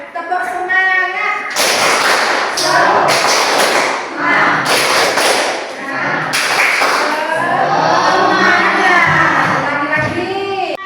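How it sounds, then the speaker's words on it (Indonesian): A classroom of students performs a rhythmic spirit clap, loud sharp bursts of clapping in quick patterned groups, with voices speaking before and after. "Teman-teman tepuk semangat, ayo, ya, tepuk semangat."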